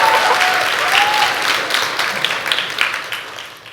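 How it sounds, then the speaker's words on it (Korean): Audience applause rings out, dense and loud at first, then gradually thinning toward scattered claps by the end. "박수 한번 쳐주세요."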